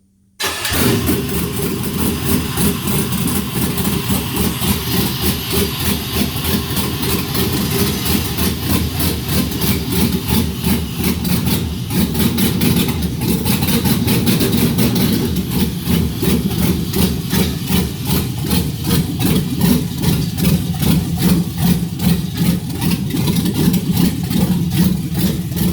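An LS V8 runs on an engine stand, starting up and then holding a steady, loud idle with a throbbing low rumble and rapid exhaust pulses, close and continuous throughout.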